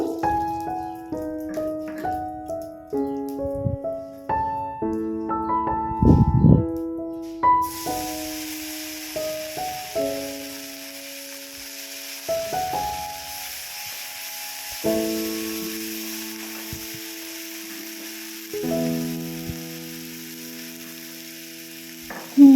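Bay leaf, garam masala and whole cumin crackle into hot oil for a Bengali chital fish curry: a steady broadband sizzle starts partway through and holds loud and even, with background music playing throughout.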